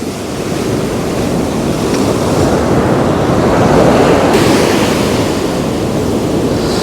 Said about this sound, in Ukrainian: Боже, як красиво виглядає море і чаєчки ті літають.